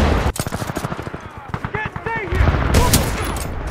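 Rapid gunfire from the shooter video game Titanfall 2, a run of sharp close blasts in quick succession with a voice briefly speaking over part of it.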